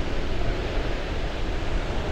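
A waterfall about 50 meters away gives a steady, loud, broad roar that fills the air without pause.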